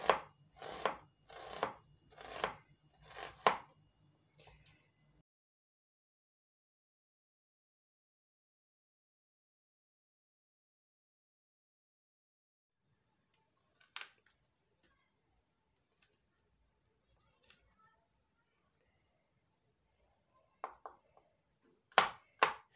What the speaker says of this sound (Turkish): Sarımsaklarımı da şu an kıyıyorum.